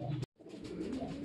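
A pigeon coos softly in a low, throaty tone, with a brief bright noise and a short pause before the cooing continues faintly under background noise.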